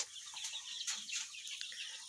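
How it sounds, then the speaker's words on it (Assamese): Baby chickens about fifteen days old, crowded together in a poultry shed, give a quick flurry of high, thin cheeping chirps, many overlapping peeps close by with no talk. "এইয়া চাওক ধুনীয়াকৈ মুৰ্গী পোৱালি এসোপামান ভৰাই থৈছোঁ।"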